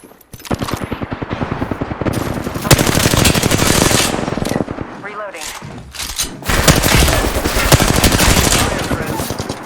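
Rapid automatic gunfire in the video game Apex Legends, loud and nearly continuous bursts with brief gaps, layered with game effects.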